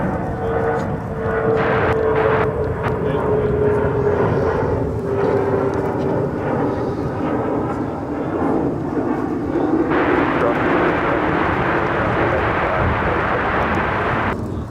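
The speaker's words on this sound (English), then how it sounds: "We got the UPS 767 heading over to 36 right for a departure to San Jose" A UPS Boeing 767 jet departs DFW airport, its broad engine roar rumbling steadily from a distance throughout, swelling louder and brighter toward the end with no talk over it.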